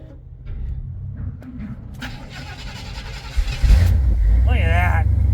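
A drag car's 600-horsepower FiTech fuel-injected engine, unstarted for a week, cranks briefly and then catches into a loud, close, rumbling idle, with people talking over it at first.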